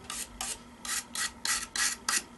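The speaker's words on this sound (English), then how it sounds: "Now I'm going to go over with this brush" Quiet, rhythmic bristly brush strokes over sanded tree-root wood, about eight brisk passes in a steady back-and-forth pattern.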